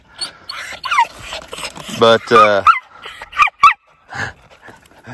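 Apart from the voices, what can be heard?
dog whimpering and barking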